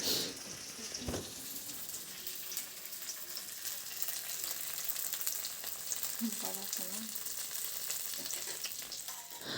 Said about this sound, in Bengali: এখানে ভাজছি আমি কারি পাতার বড়া